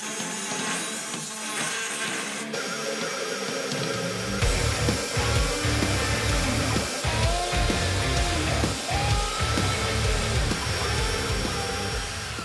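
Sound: portable bandsaw cutting 1084 steel knife blank

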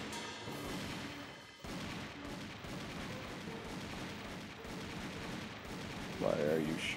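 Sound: gunfire in the video game Army Men RTS

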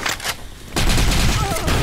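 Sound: gunfire in the video game Blackshot

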